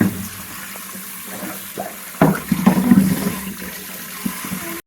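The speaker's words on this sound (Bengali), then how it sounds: "নতুন আলুগুলোকে ভালো করে পরিষ্কার জলে ধুয়ে নিলাম" New potatoes being washed in clean water in a home kitchen, running water and splashing with a sudden louder sloshing burst midway, close and alone.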